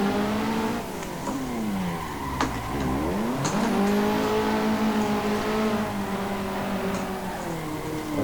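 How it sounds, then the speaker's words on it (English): A car drifts on the Drift Playground track in the Assetto Corsa racing game, its engine revving and dipping in sweeping pitch changes, with tires squealing under steady loud throttle. "after you catch the drift, it's about using the right amount of throttle to get the car"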